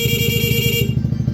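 The stock horn on a Honda Click V3 scooter sounds one continuous, loud, close beep that holds steady, then a brief high hiss follows as it cuts off.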